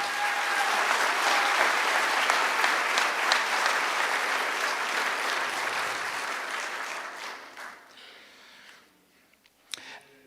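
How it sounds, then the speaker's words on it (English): An audience gives a big round of applause for students at a high school senior awards ceremony, full and sustained for about seven seconds, then thinning to scattered claps and quiet. "Let's give them a big round of applause."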